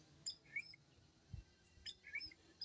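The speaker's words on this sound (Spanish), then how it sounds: "Miren los pajaritos como cantan." Small birds singing outdoors, faint distant chirps and short tweets scattered over quiet background ambience, with a soft low thump partway through.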